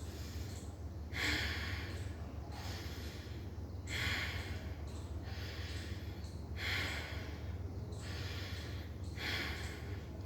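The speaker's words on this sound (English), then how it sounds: "so this is deep and fast inhalation and complete and fast exhalation" Deep, fast breathing in and out through the nose during a breathing exercise, with strong, regular bursts of air about every second and a half, close and clear.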